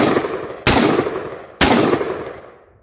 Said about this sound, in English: So it's still semi-automatic, but I'm going to shoot a little fast with it